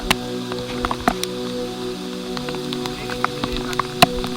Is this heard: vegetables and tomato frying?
no